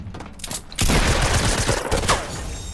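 Video game gunfire rattles out in loud, dense volleys, with several weapons firing rapidly and overlapping in a close, chaotic exchange.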